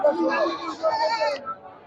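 Goats bleat at a busy goat market where many are tied in rows for sale, one quavering cry rising about midway and breaking off, over steady nearby talk and crowd noise.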